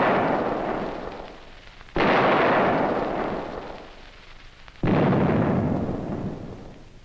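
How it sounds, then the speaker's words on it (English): Three heavy cannon blasts from the Fort Sumter bombardment strike roughly every three seconds, each a loud booming onset that rolls off into a long, fading rumble. "On April 12, 1861, Fort Sumter was fired upon."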